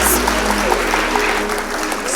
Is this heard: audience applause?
yes